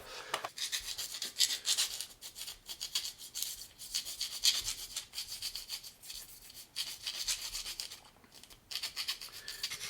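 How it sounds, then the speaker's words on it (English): Metal file rasping the coating off an aluminium tent pole, a steady run of gritty back-and-forth strokes, close and continuous, with brief pauses between passes. "So we just start filing away."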